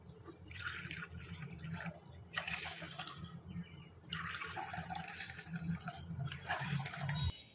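Water from a measuring bowl pours into rice flour for making pitha, a steady close splashing and trickling flow that swells in several bursts across the stretch, with no talk over it.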